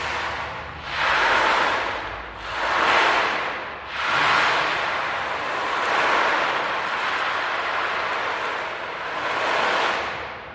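Rough sea waves roll in and break one after another, each surge swelling into a broad hiss and then easing back, with steady wind noise between the crests.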